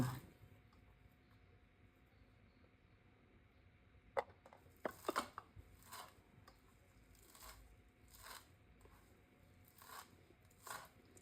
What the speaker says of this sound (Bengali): এখন আমি ধইনা পাতাগুলি কুচি করব